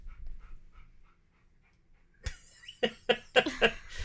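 A dog pants softly and rhythmically in quick, faint breaths, then gives a few louder, harsher breathy huffs and coughs close by.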